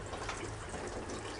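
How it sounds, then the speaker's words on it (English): Water runs from a faucet inside a house, a faint, steady low rushing that continues unbroken for the brief moment, with no voices. "I hear water running. The faucet's on."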